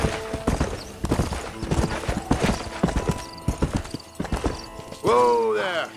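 Horse hooves clop and pound in Red Dead Redemption, loud and close in a galloping rhythm that slows and breaks up, ending with a drawn-out whinny-like tonal sound; a voice is heard.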